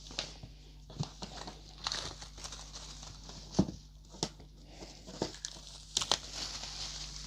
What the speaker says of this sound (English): There we go, that's the cellophane off.